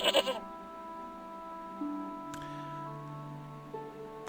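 Goat bleating in the point-and-click video game Broken Sword: Shadow of the Templars, a short wavering bleat at the start followed by quiet game ambience and tones.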